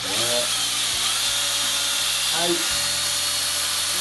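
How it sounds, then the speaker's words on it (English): A high, whining drill runs continuously, its pitch dipping twice as the bit bores straight through hardwood, loud and close throughout. "you need to drill straight down all the way through the piece of wood"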